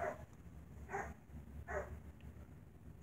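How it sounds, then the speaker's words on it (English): Dogs bark in the background in three evenly spaced, muffled, faint barks over a low household hum, with no one talking. "Excuse the dogs barking in the background."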